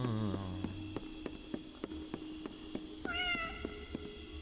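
Game cat meowing with a rising, sliding two-part meow at the start and another around the three-second mark, set over a steady musical hum and regular soft tapping beats.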